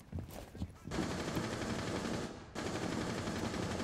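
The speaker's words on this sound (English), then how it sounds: "he's shooting the wall right here" Gunfire aimed at a wall in Rainbow Six Siege, sustained rapid automatic bursts that are loud and dense. A short gap breaks the firing partway through, and it continues to the end.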